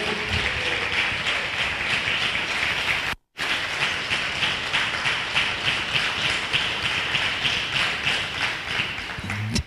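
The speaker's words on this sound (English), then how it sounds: "Give him a round of applause" An audience breaks into sustained applause after a speaker's closing words of thanks, a dense steady clatter of many hands lasting several seconds with one brief dropout, loud and close throughout.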